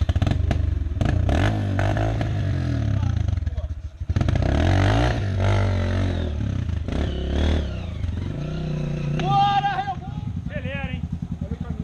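A trail motorcycle engine, flooded, is being revved and started on a dirt trail. It sounds close and loud, with rough sustained revving and rising pitch sweeps near the end, and people talking over it.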